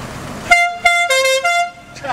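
A car horn honks several times in quick, uneven bursts, loud and close, with voices around it.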